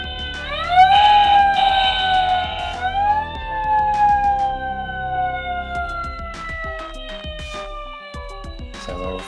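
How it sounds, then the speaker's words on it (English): Electronic toy siren from a Hot Wheels Ultimate Garage playset wails with rising and falling sweeps, then settles into a slowly descending tone that fades out, loud and close with faint clatter behind. "Sounds like a fire engine or a police car, I'm not sure which"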